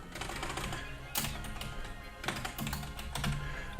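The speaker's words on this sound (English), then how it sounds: "type the name of the relative in here" Fingers type a name on a computer keyboard in quick, close, crisp key clicks with a couple of heavier taps, steady throughout without talk.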